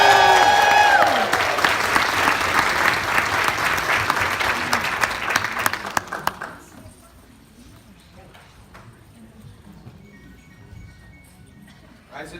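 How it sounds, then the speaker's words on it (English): An indoor audience applauds and cheers loudly for students at a kids' event, a dense steady clapping wash for several seconds that suddenly drops to quiet room murmur. "Everybody cheer them on."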